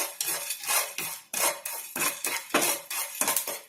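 Pepper chicken masala frying in a pan while a spoon stirs and scrapes it, a brisk rhythm of metallic scrapes and clinks repeating about twice a second, close and clear.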